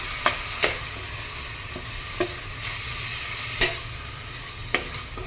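Minced keema and spices frying in oil while being stirred, a steady close sizzle broken by several sharp scrapes and taps of a spoon against the pan, with no voices.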